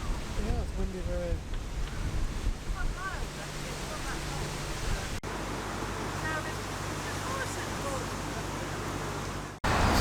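Gusty wind rushes across the microphone in a steady, noisy roar beside a narrowboat on the Oxford Canal, with voices faintly talking underneath.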